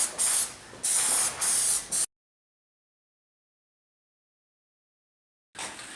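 Aerosol cans of Plasti-Dip sprayed onto Tesla Model X wheels make loud, close hissing bursts with short breaks for about two seconds. Silence follows, then the spraying resumes.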